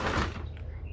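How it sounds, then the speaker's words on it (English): A sliding shower door in a Tischer truck camper unit slides with a dull, close thunk over a low rumble, then a quieter rattle as it settles. "not only is it a sensible sliding door"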